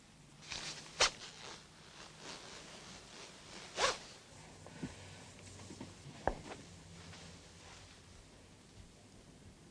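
Clothing zipper pulled in a few quick, sharp zips, each a brief rasp close by against a quiet room background, spaced a few seconds apart.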